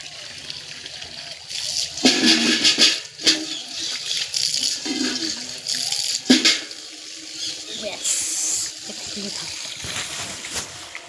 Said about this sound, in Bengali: চলো বালতিটা ভর্তি হচ্ছে ওই যে বালতি ভর্তি হয়ে যাক